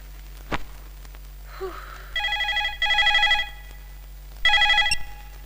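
A landline telephone rings in three bursts, each a bright trilling electronic double ring, at moderate volume in a quiet room after a single faint click.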